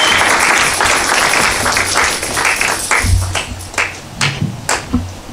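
A church congregation applauding in praise during a service: dense, loud clapping from many hands that thins into scattered, distinct claps toward the end.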